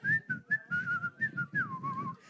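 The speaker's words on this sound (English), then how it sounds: "It was whistling." A person whistles a short wavering tune in a series of quick notes, close and clear, with no talking.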